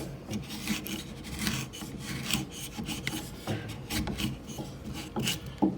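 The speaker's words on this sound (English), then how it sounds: "take your chisel again, nice and flat, slice and cut" A chisel pared flat across wood in a vise while cutting a corner halving joint gives repeated close scraping, rasping strokes in an uneven rhythm, with no speech.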